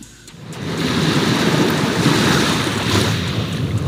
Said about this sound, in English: Lake Michigan waves in South Milwaukee